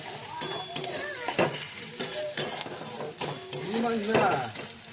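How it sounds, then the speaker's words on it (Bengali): Chopped onion fries in oil in a kadai, with soft sizzling under scattered clinks and scrapes of a spoon stirring against the pan, close and fairly quiet. "এবার ওই কড়াতেই যে তেল ছিল সেই তেলের মধ্যে দিয়ে দিয়েছি পেঁয়াজ কুচি।"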